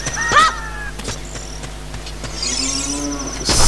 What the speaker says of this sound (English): that's the only reason why you'd hear a cow mooing back there